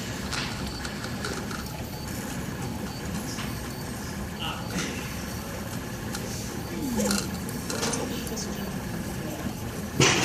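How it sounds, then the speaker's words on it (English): 3D printer extruding PLA plastic, a continuous mechanical whir and hum of stepper motors with faint intermittent ticks and shifting tones, steady at close range with no speech. "the printer is laying down plastic"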